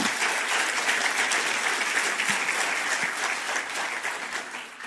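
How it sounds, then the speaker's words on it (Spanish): A church congregation claps loudly and steadily, a dense, continuous wash of applause praising God that fills the whole stretch, with no voice on top. "dele un fuerte aplauso al Todopoderoso"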